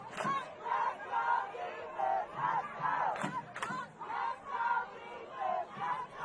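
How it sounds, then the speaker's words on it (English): A high school football crowd at Inglewood stands and cheers late in the game, a dense roar of many voices rising and falling in waves, with sharp shouts and whistles piercing through. "the Inglewood crowd on their feet, trying to rally their team for one more stop"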